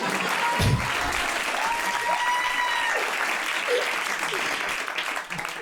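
An audience at a stand-up comedy show breaks into steady applause, a dense continuous clapping that fills the room for several seconds with a few scattered whoops before it tapers off.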